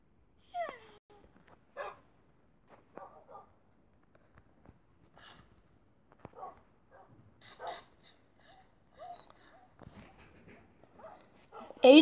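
Tamed wolves in the Minecraft video game give short, soft whimpers and yips scattered through the scene, mixed with other quiet game sounds while people talk.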